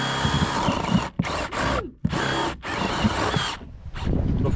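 Power drill fitted with a skinnier bit boring a hole near a nail during a lighting install, whining loudly in several close bursts separated by short stops and restarts.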